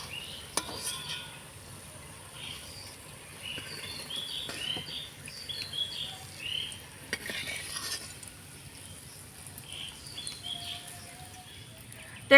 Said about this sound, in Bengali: ধীরে আছে সময় নিয়ে ফুল পিঠেগুলোকে ভেজে নিয়েছি